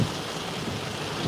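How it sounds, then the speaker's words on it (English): Heavy tropical storm rain pours down steadily in Fort Myers, Florida, a dense, continuous wash of noise with low wind rumble and no pauses throughout. "Getting some solid, heavy rain now."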